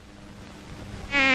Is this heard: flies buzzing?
yes